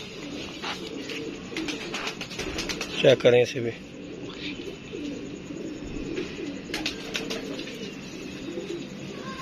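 Soft pigeon cooing in a low, repeated burble, with a person speaking briefly nearby and some fluttery background noise.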